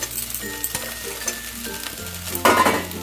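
Flattened rice (chira) with vegetables being stir-fried in a pan, a soft steady sizzle broken by scraping clinks of a spatula against metal, with a louder stirring burst near the end.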